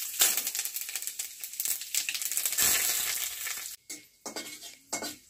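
Whole spices crackle and sizzle in hot oil being tempered for Bengali aloo dum, a close, hissing spatter with scraping stirs that cuts out and returns in short bursts near the end.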